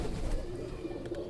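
Pigeons kept by a pigeon fancier coo softly in a low, rolling murmur, a brief close burble over faint background noise with no voices.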